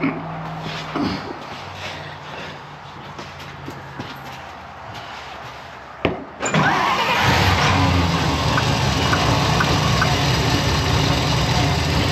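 A cold, old 1956 Power Wagon truck cranks weakly, then catches with a sudden burst and settles into a loud, steady running rumble close by.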